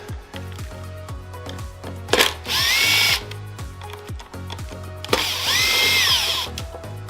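Power screwdriver undoing T10 screws on a Kirby vacuum: two loud whirring bursts of about a second each, with clicky ratcheting and a steady hum in between, close-up and without talk.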